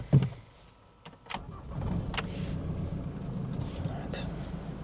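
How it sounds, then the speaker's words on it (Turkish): A Jaguar X-Type 2.2 diesel automatic starting with a brief cranking thud, then settling into a low steady idle, with people talking nearby over it. "hadi birazcık çalıştıralım arabayı"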